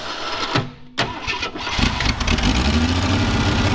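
An old, worn-out junk motor cranks with a few clunks, catches and fires up, then settles into a rough, steady running rumble close by.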